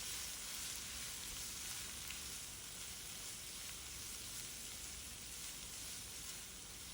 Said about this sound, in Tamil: சேர்த்து நல்லா கிளறி விடுங்க.